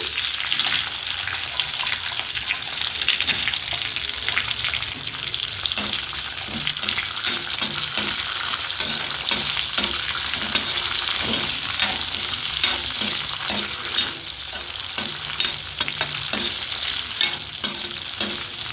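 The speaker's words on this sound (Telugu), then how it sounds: "రొయ్యలు వేసి రొయ్యలు బాగా వేయించుకోవాలి" Dried prawns fry in a pan for an amaranth-leaf curry, giving a loud, steady sizzle with crackling spits and scraping stirs for the whole stretch, with no talking.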